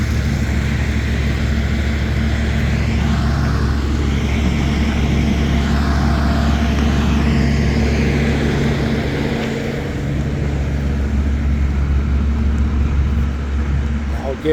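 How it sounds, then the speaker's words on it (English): A tar buggy rolls up along a road paving site beside live traffic, its loud steady engine drone continuous for the whole stretch, with talking over the machinery. "There's the tar buggy coming up."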